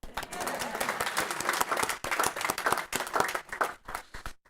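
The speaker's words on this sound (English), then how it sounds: "He's not here, but we can still clap." An audience at a school board of education meeting claps for a person called to receive a gift, dense lively clapping in short bursts with a brief pause, and some voices mixed in.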